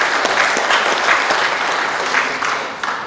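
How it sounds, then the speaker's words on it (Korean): Applause from delegates at a 2021 Icheon livestock cooperative delegates' meeting, a dense steady burst of many hands clapping, loud and close, tapering slightly at the end. "선거관리위원장님께 감사의 박수 좀 부탁드리겠습니다."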